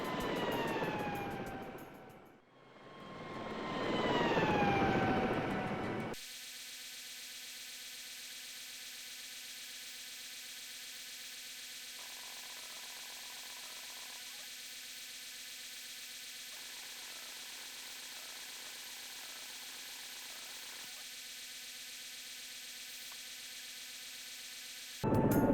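An aircraft in the Search and Rescue 4 video game roars loudly with a rising and falling engine whine during landing, then cuts to a steady faint mechanical hum.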